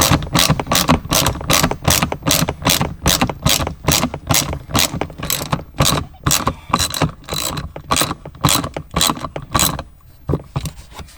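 Ratchet driving a T20 screw back into a BMW M3 seatbelt mount with a long extension, a fast, even run of loud, close clicks that continues for several seconds before slowing and fading near the end.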